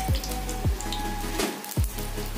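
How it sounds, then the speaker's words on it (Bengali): Rain falls outside an open window at home during a night power cut, a steady soft patter with a few sharper drops standing out, fairly quiet and with no voices. "বৃষ্টি হচ্ছে দেখেন।"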